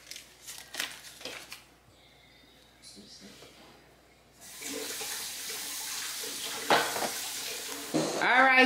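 Butter sizzling in a pan as seasoned salmon and riced cauliflower meal prep is stirred, a close, steady hiss that swells in the second half, after a quieter opening with scattered knocks and a running tap.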